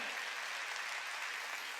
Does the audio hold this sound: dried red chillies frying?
no